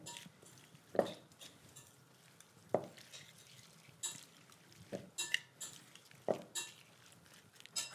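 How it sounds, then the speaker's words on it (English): Spoon or utensil clinking against a bowl while Dijon mustard and honey are mixed into a dressing in a home kitchen, a handful of sharp knocks spaced irregularly between quieter scraping and stirring, close and fairly faint. "put in about a teaspoon of Dijon mustard, 2 spoons of honey, and give everything a little bit of a mix"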